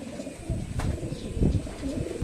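Several pigeons coo nearby in a loft, low throaty burbling calls that overlap in soft, rolling bursts.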